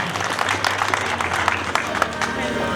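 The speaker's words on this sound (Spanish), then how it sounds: "Vamos a darle unos aplausos para la madrina" Audience applause for the godmother at a quinceañera party, a dense, steady wash of clapping with mixed voices and chatter throughout, fairly loud and continuous.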